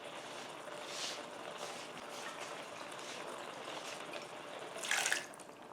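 Water is added to onion and leftover salsa in a frying pan, a soft trickling pour with faint splashes and a brief louder gush near the end, heard quietly with no talk.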